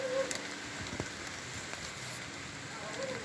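Steady rain falling during a fishing trip, a constant hiss of drops on surfaces with a few louder splashes and a faint voice now and then.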